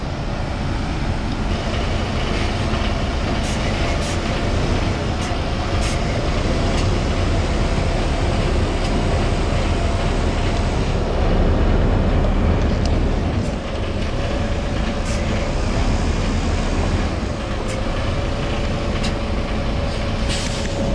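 A coach drives forward slowly while TRAK snow chains are fitted, giving a loud, steady engine rumble with broad road noise throughout and a brief dip in level partway.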